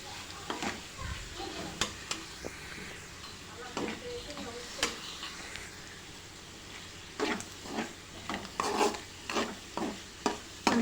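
Goat blood curry with turmeric being stirred in a pan, a spoon scraping and clacking in uneven strokes over a low sizzle, with stretches of quieter cooking between bursts.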